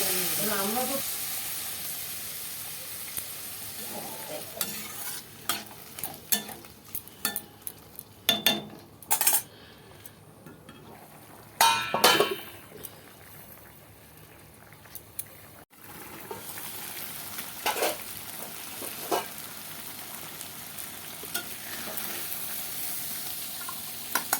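Malabar spinach fruit and vegetables, tempered with cumin and bay leaf, cook in a pot after water is added, giving a low steady sizzle and bubbling with scattered metal utensil clinks and scrapes from stirring.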